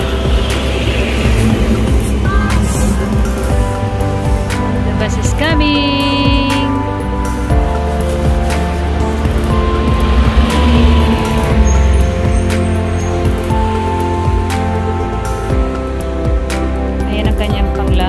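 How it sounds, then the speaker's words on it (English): B35 city bus in Brooklyn, New York, its engine rumbling nearby with hiss and brake tones over a steady street din, while people talk throughout. "Ito ang bus. B35 bus."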